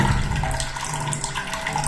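Water runs steadily into a toilet tank after a flush mechanism is replaced, a continuous close splashing gush with no pauses.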